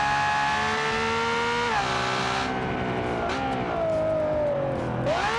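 A race car engine in the game Automation revs loud and harsh, its scratchy whine climbing and dropping through several gear changes without pause.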